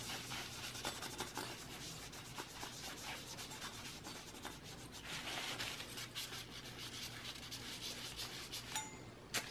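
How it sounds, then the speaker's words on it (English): A napkin soaked in rubbing alcohol rubs back and forth across a processor in a Dell Optiplex mini-tower, giving soft, continuous, faint scrubbing and wiping sounds up close. "So I'm gonna apply the rubbing alcohol to the napkin."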